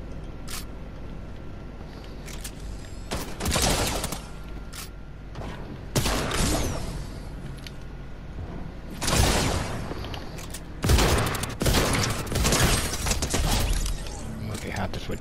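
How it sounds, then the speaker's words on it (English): Shotgun in the Fortnite video game, a few loud, widely spaced blasts with sharp mechanical clacks between them, mixed with game noise and sporadic action sounds. "Okay, I probably should have switched to the shotgun. Oh, I forgot the shotgun does this."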